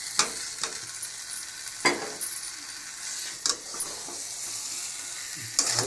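Boiled potatoes and eggs fry in a pan with oil, a steady soft sizzle broken by several sharp scraping stirs of a spoon against the metal, close and without talk.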